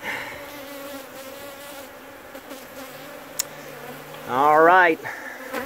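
Honeybees hum inside the wall of an abandoned house with a close, steady drone, and one loud buzzing swell rises near the end as a bee passes near. A person speaks briefly.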